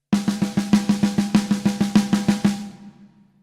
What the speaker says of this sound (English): Now these are called double strokes,